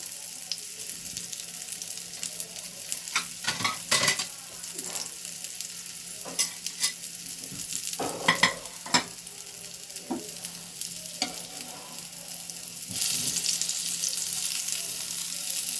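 Steady sizzling of mung dal pitha frying in hot oil, broken by occasional stirring and scraping clatters, close up with no talking.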